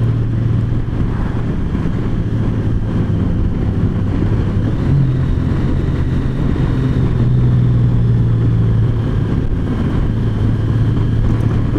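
A 2019 Honda Goldwing motorcycle accelerates hard in sport mode on an open road, its steady engine drone buried in a loud, constant rush of wind roar with no voices.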